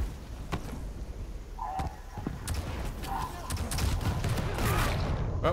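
Gunfire in the arena shooter Quake Champions, a team deathmatch on the Burial Chamber map: scattered sharp shots crackle through a busy, noisy mix of game action, growing denser and louder toward the end.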